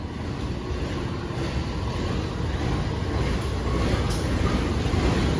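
A train hauled by vintage locomotive CC201-9201 rumbles past steadily at close range in Jember, Indonesia, a heavy continuous roar with low mechanical drone and no voices.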